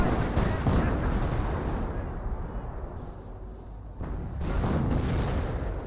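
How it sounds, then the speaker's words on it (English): A Panzerfaust rocket launcher fires in a Company of Heroes World War II battle, a deep booming blast amid ongoing gunfire and explosions, with a voice talking over the combat. "Panzerfaust fires onto the lieutenant, but did not get a kill there"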